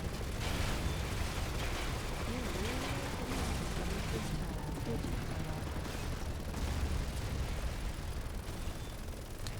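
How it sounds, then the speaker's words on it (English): Dense, continuous rumble of distant explosions and bursts of gunfire from a helicopter in the video game Resident Evil 6, a steady noisy wash with a faint voice underneath. "This also explains the explosions and the helicopter gunfire that Leon is hearing"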